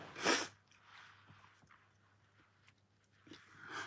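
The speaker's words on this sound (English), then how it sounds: "Oh, I need to sneeze." A single sharp sneeze close by near the start, followed by quiet room noise with faint small clicks and movements.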